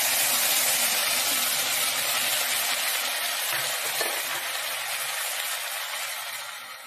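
Chilli-tomato paste hitting hot oil with fried gathi kochu and onions in a pan, a loud steady sizzle and hiss that fades gently toward the end, with no voices.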